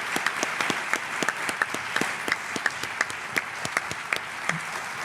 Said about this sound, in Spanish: Por favor, un fuerte aplauso para Nando Domínguez y Miguel Ángel Moyano.